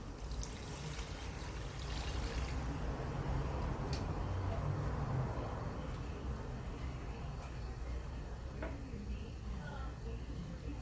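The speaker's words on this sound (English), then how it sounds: "So here we're gonna add some water to it." Water is poured into a pot of pork curry during cooking, a steady faint splashing trickle under constant background noise while someone talks.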